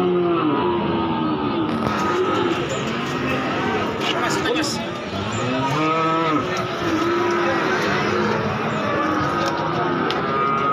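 Cattle moo and low over a dense, noisy crowd of talking voices, with engine rumble in the background of a busy livestock market in Wirosari, Grobogan, Central Java.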